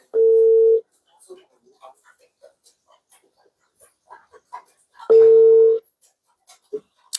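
A telephone ringback tone sounds twice while participants of a call are dialed back, each a steady half-second beep about four seconds apart, with faint clicks and small noises in between.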